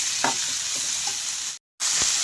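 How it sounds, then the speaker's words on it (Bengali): Tomato, chili and onion sizzle steadily in a pan with salt added, a continuous frying hiss broken by a few soft stirring scrapes and a brief dropout near the end. "লবণটা দিয়েও আমি নাড়াচাড়া করে নিলাম।"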